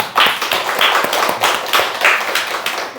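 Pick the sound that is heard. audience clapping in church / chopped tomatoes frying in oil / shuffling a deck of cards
audience clapping in church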